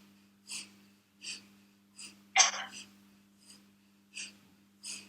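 Kapalabhati yoga breathing, a series of sharp forceful nasal exhalations in a regular rhythm, about one every second, close and clear over a low steady hum, with one stronger snort midway.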